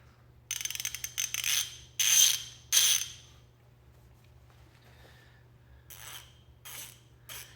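Kobalt 90-tooth ratchet clicking in quick bursts, several rapid buzzing runs of fine clicks separated by short pauses, close and fairly loud over a low steady hum, with no talking.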